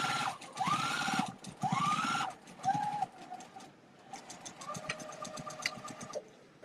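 A sewing machine stitches a quilted fabric postcard in short bursts of rapid mechanical whirring, pausing and restarting a few times close by, with a lighter, higher-pitched run near the end.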